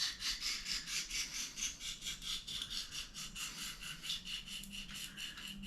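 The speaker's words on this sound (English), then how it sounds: "You want to sharpen the whole blade pretty evenly." A steel knife blade is stroked back and forth on an oil stone, giving a rhythmic, fairly quiet scraping hiss in evenly spaced strokes, with no talking.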